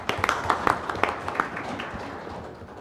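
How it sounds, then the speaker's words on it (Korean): An audience at an architecture forum gives brief scattered applause to welcome a panel moderator, with a few sharp claps early that fade within a couple of seconds. "박수로 부탁드립니다."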